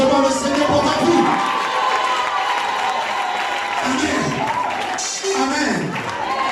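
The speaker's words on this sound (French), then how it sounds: "Acclame fortement le Seigneur pour ta vie." A church congregation cheering and acclaiming loudly, a dense roar of shouting voices and applause filling the room continuously, with rising whoops and cries above the crowd.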